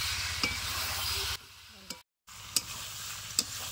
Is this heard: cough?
no